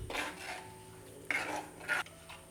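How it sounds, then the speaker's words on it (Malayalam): A spoon stirs a pot of dried fish curry gravy after water is added, giving a few short scraping, clattering bursts against the pot amid quiet kitchen background. "ഇനി നമുക്ക് നന്നായിട്ട് ഇളക്കി കൊടുക്കാം."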